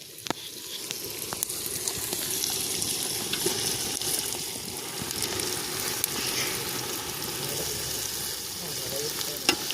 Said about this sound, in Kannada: ಹಾಕ್ಕೊಂಡು ಚೆನ್ನಾಗಿ ಫ್ರೈ ಮಾಡ್ಕೊಬೇಕು